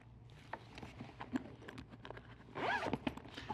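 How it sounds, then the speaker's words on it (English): A zipper on a travel bag's trolley pass-through pocket is pulled open in a few quick, rasping strokes up close, ending in a louder, longer zip. "You have to unzip this."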